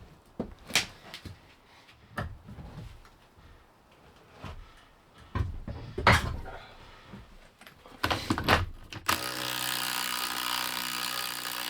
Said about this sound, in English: I ended up borrowing the right socket to fit on my breaker bar and managed to crack it loose.